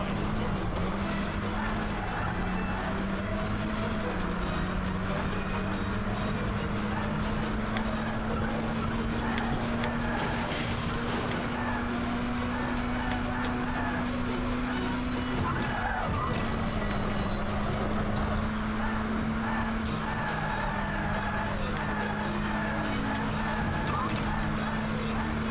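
A Mini in the 2001 racing game Burnout drives on two wheels, its engine holding a steady, loud drone that climbs slowly in pitch and runs unbroken beneath game music and tire noise.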